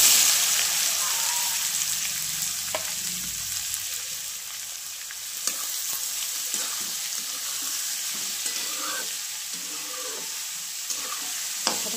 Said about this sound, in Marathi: आता फोडणी द्यायची आणि कांदा टाकायचा भाजायला